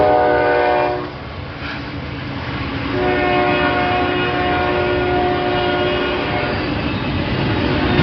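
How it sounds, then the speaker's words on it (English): Norfolk Southern freight train rolling north through a historic downtown, a loud sustained horn blast over the steady rumble and clatter of passing railcars. "watch a Norfolk Southern freight train traveling north through the beautiful and historic downtown"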